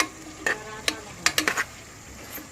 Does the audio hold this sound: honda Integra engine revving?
no